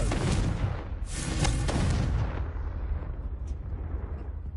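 A Confringo fire spell in Hogwarts Legacy goes off as a loud, booming blast with a roaring burst that fades into a long rumbling tail.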